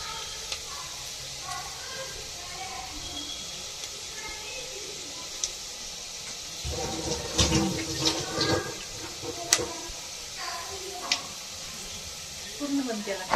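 Tap water runs and splashes steadily while mutton is washed by hand in a kitchen, with louder sloshing bursts partway through and someone talking over it.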